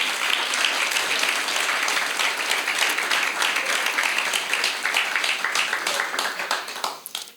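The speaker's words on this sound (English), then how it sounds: "Let's give Bri a big round of applause." Audience applause for a storyteller at a Kankakee storytelling event, a full, sustained round of clapping from a crowd that carries on for several seconds before thinning and tapering off at the end.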